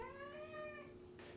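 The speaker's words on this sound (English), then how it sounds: "My cat's names are Venom and Toxin" A house cat gives a single faint, drawn-out meow that rises and then falls, followed by a short soft rustle.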